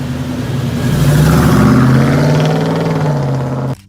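A 1968 Chevrolet Chevelle SS 396 V8 rumbles loudly close by, its low engine note swelling as it revs for a few seconds before cutting off abruptly.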